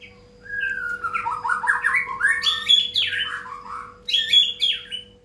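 A long-tailed white-rumped shama (murai batu), a tame bird kept for song contests, sings a rich, continuous run of varied whistles, trills and chirps, close and clear, with no talking over it.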